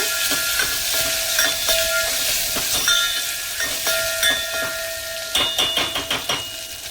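Garlic, green chilli and curry leaves sauté in hot oil with a close, hissing sizzle. Sharp crackles and pops keep breaking through, and no one speaks.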